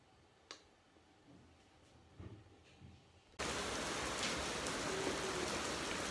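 Heavy rain pours down steadily, a dense constant hiss that begins abruptly partway through after a quieter stretch with a few faint taps and knocks, then stays loud and even to the end.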